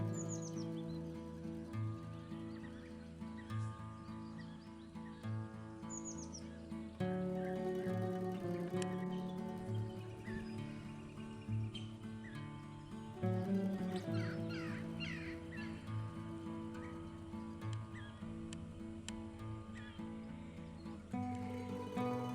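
Birds calling at Lake Hazar in Turkey: scattered chirps and caws over a steady, layered background of distant tonal sound, all faint and continuous with no speech.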